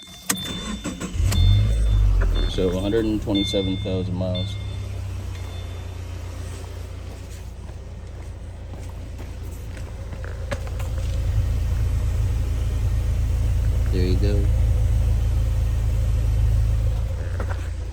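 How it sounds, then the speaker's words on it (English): A 2015 Subaru Forester with a Walker exhaust and about 127,000 miles cranks over, catches, and settles into a steady, close, low rumbling idle that swells slightly later on. Someone speaks briefly over the engine. "Let me start up the car."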